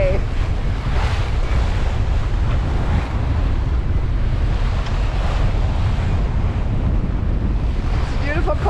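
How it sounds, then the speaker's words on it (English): Strong wind and rolling Atlantic ocean waves surround a sailboat at sea on passage toward Antarctica, a steady loud roar of gusts and surf with microphone wind buffeting throughout, no voices. "and with that the wind comes"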